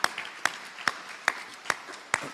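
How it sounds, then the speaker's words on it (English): Six sharp, evenly spaced claps, roughly one every half second, ring out at a Gainesville Rotary Club meeting to welcome new members. They sound fairly close and stand alone against a quiet room. "Let's give them a round of applause."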